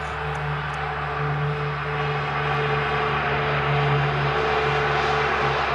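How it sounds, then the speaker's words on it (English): A US Air Force C-130 Hercules propeller aircraft flies past, a steady loud droning roar with a humming propeller tone, continuous and fairly close throughout. "It's the US Air Force C-130 Herc."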